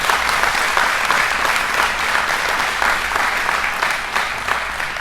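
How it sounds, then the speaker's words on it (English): Graduation ceremony audience breaking into a round of applause, dense sustained clapping from a large crowd that carries steadily through the whole stretch. "Can we give them a round of applause?"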